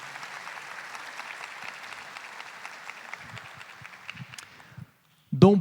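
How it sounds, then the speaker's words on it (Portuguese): Congregation in a church applauding together after a Bible reading, a dense wash of many hands clapping for about five seconds before it stops, followed by a brief loud bump. "Pode aplaudir a palavra de Deus."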